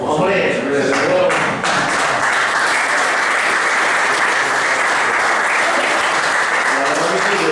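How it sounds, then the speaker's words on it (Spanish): Audience applause at a talk about a Dakar rally rider, a dense, sustained wash of clapping from a crowd that fills the room, with a voice briefly heard at the start. "un aplauso para los amigos"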